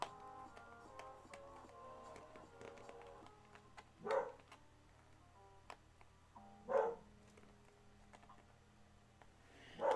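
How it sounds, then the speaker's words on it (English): Dog barking at the neighbours indoors, three separate single barks spaced several seconds apart, moderately loud against a quiet room hum with faint ticking. "Barking at the neighbours now."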